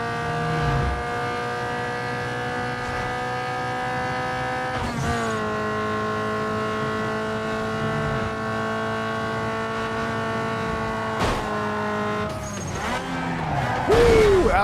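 A Pontiac GTO racing in Need For Speed Underground 2, its engine holding a steady high drone with brief shifts and tire noise, ending in a sharp squeal and burst of revving.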